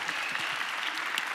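A church congregation applauds briefly, giving steady, crisp clapping from many hands close by with no voices over it.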